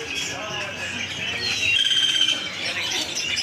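Cotton starlings (jalak kapas) calling at the Pramuka bird market, Jakarta: bright chirps and tweets scattered over a steady busy market din with voices in the background.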